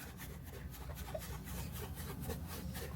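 Scratch remover is rubbed onto car paint in circular strokes, making a soft, steady scrubbing and rasping close up, with no talking.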